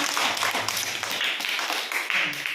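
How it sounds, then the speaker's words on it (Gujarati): Young children at an anganwadi preschool clap their hands together in a quick, busy patter of uneven taps that carries on without a break, with a faint voice now and then. "તાળી વાળો બધા."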